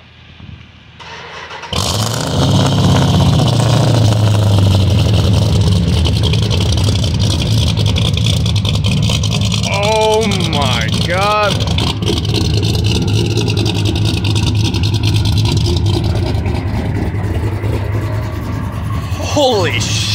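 A 1999 Dodge Dakota pickup with a cammed 408 stroker V8 starts after a short silence, then settles into a loud, lumpy idle with a few throttle blips. Voices can be heard over the engine.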